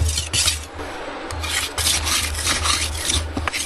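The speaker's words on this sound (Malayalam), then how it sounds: "നമുക്ക് കത്തി അണച്ച് ചെക്ക് തുടങ്ങാം." A knife is sharpened with rhythmic rasping strokes, each scrape a bright gritty burst repeating at an uneven pace, close and clear with no talking.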